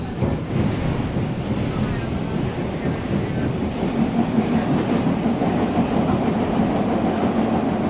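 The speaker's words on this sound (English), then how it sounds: "Vivian would take the train from the northern suburbs where she worked to downtown Chicago." Train running on rails near Chicago's northern suburbs, a continuous close rumble with rhythmic clickety-clack of wheels and wind-like rushing noise, loud and unbroken throughout.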